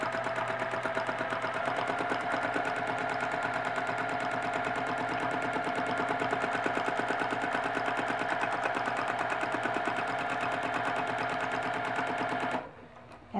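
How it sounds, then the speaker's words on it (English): A sewing machine runs steadily through free-motion quilting loops, its rapid needle rhythm loud and continuous up close until it stops near the end. "And that is another way to stitch your quilt with loops"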